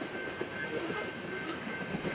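A coal train passes on the railway at Marvin Road in the Pacific Northwest, giving a steady, close rumble and rattle of rolling cars with no clear breaks.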